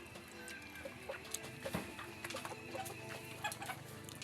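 A flock of backyard chickens with a rooster cluck in short repeated bursts at moderate distance, the birds alone without voices over a low outdoor background.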